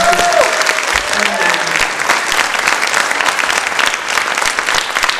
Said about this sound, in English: one more time as strong and a rousing applause as you can to our panelists